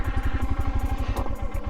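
A motorcycle engine braking on a steep downhill mountain road toward Adi Kailash, a steady low throbbing rumble with rapid pulsing beats and some mechanical clatter, loud and close throughout.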